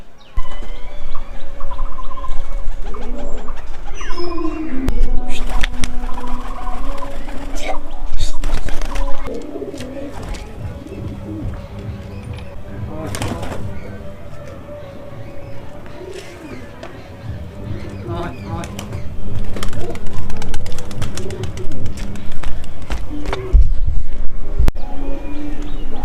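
A pigeon coos on a rooftop, low repeated throaty calls rising and falling across the stretch, with other birds chirping faintly and a voice talking over parts of it.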